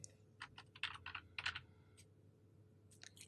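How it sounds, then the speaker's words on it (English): Typing on a computer keyboard, a quiet, close run of light key clicks in quick irregular clusters with brief pauses, then a few final taps. "I can type in my change"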